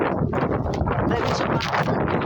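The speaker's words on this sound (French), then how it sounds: "J'ai jamais vu un vent qui fait autant de bruit." Loud, blustery wind roars outdoors in a continuous heavy rush that buffets the microphone, with no break across the whole stretch.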